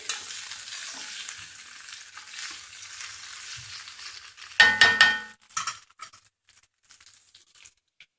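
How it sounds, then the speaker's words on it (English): Okra (lady's finger) fries in hot oil with a steady hissing sizzle, then a burst of louder stirring and scraping before it settles back to a quieter sizzle. "And here the lady's finger being fried."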